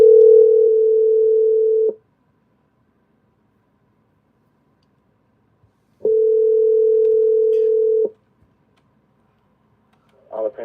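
Telephone ringback tone on a call, two long steady beeps about four seconds apart with silence between them, clear and alone, followed by a faint voice at the end.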